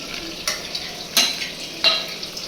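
Chopped spinach curry being stirred in a pan after a few minutes covered, with three crisp scraping strokes of a spoon over a faint steady sizzle, heard close with no one talking.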